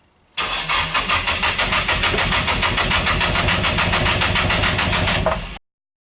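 A Nissan S14 cranks and fires up after sitting unused for eight months, a loud steady rhythmic churning of the starter running for about five seconds before cutting off abruptly, heard alone without voices.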